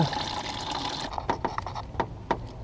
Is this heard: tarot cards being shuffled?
no